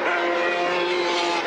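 A 4.5-litre Porsche 917 race car fishtailing around the wet Kent circuit, a loud high-revving engine wail with a hissing spray-like wash, sustained and close throughout.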